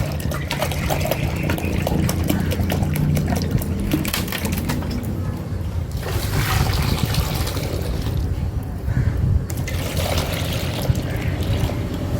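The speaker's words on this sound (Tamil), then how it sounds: "இப்போ அஞ்சு லிட்டர் தண்ணி ஊற்றிட்டாக்க பதிமூணு லிட்டருக்கு இன்னும் எட்டு லிட்டர் தண்ணி ஊற்றணும் ஆர்ஓ வாட்டர் தான் ஊற்றணும்" RO water poured steadily from a can into a batch of homemade toilet-cleaning liquid, a continuous close splashing and gurgling stream lasting the whole stretch with no talk.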